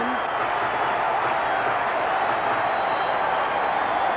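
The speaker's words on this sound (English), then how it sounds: "Crowd's going bonkers here." Crowd noise fills a baseball stadium during a Rangers–Brewers game in 1987 as runs score, a steady, dense roar of cheering with no breaks, loud and sustained throughout.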